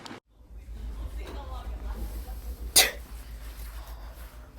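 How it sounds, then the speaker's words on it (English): A single abrupt sneeze bursts out in a quiet library, short and close, set against a low steady room hum with faint murmuring around it. "Oh, I'm sorry. Just sneezed."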